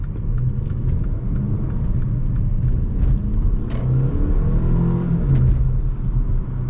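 A 2018 Mercedes CLA250 4Matic with a 2-liter turbocharged four-cylinder pulls away hard in sport mode, its engine rumbling and revving steadily from inside the cabin with no talking.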